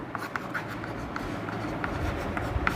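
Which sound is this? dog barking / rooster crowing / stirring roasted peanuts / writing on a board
writing on a board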